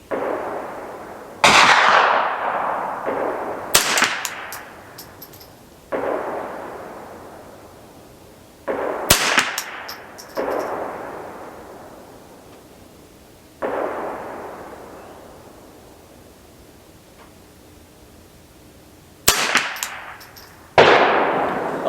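A Ruger 10/22 rifle firing CCI standard velocity .22 LR rounds outdoors: about eight sharp, loud shots at irregular intervals, each ringing out in a long fading echo, with no voices.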